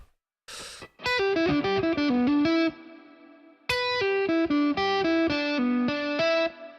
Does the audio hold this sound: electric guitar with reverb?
yes